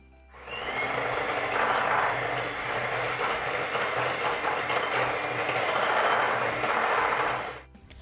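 An electric hand beater whirs steadily while beating eggs into chocolate cake batter, a close, continuous motor hum that starts, runs for several seconds and stops.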